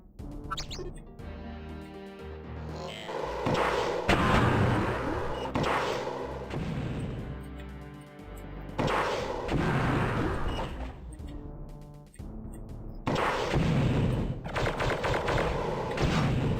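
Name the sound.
gunfire in video game Siege of Avalon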